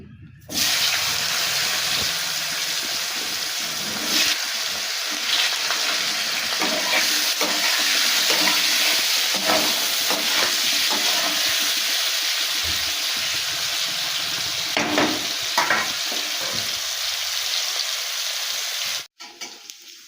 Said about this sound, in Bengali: তেলটা আমার খুব ভালো করে গরম হয়ে গেছে এবার আমি পনিরগুলো দিয়ে ভেজে তুলে নেব